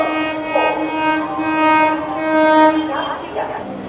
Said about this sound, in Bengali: একটা করে ট্রেন আসছে আর যাত্রীদের হুড়োহুড়ি, গুতগুতি